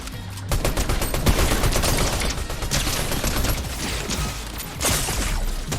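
A tracker pistol fires in a shooting video game, a dense string of loud, close shots with mechanical clicks and rattles running through the whole stretch, no talk.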